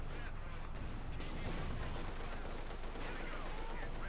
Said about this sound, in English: Katusha firing at the Fluxus, they're almost wiping them out